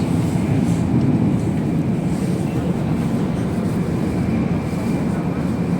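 Inside a Japanese bullet train moving at high speed, a steady, loud, low rumbling roar of the running train fills the carriage without a break.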